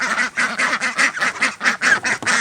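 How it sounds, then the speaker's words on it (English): Small farm ducks quack excitedly while being fed, a rapid run of about a dozen loud, close, evenly spaced honking calls. "let's go feed the little ducks. Want to see some little ducks go crazy."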